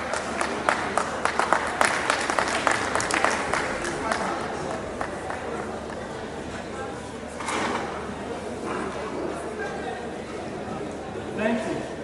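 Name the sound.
audience applause at a conference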